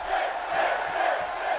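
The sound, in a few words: wrestling arena crowd cheering, from video game WWE 2K18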